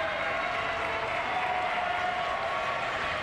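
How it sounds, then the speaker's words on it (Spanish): Crowd applause at a lucha libre wrestling event, a continuous, even wash of clapping and arena noise that stays steady and fairly distant throughout. "Ganándose el aplauso, Johan, de la afición regia."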